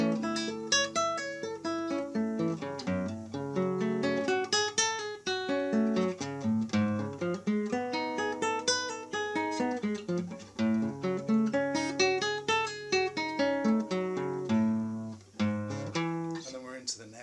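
Solo classical guitar plays a flowing arpeggio study with compound barre chords, notes rippling steadily across the strings with shifting harmonies and no voice.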